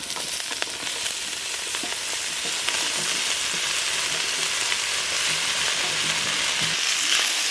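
Chopped potatoes and fenugreek leaves frying in a pan with green chillies and onion, making a continuous loud hissing sizzle close up, with faint scraping stir sounds mixed in.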